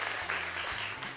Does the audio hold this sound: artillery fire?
no